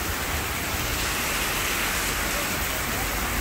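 Dense, heavy rain with wind roaring steadily and loudly, an unbroken wash of drumming drops close at hand.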